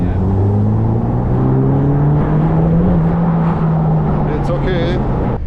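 A Ferrari Portofino engine drones loudly and steadily while driving, its pitch climbing gently then settling, heard from inside the car with a brief high whine near the end.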